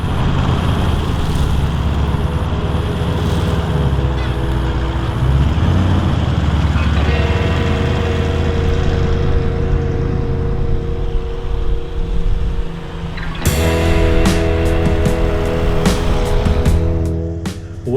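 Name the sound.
4WD vehicle driving on beach sand tracks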